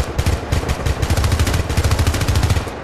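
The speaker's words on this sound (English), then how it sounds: "See, I'm shooting at a sergeant over there." Rapid automatic gunfire from the Syndicate video game, fired at a sergeant, rattles in dense, continuous bursts of sharp repeated shots throughout, loud and close with no talking over it.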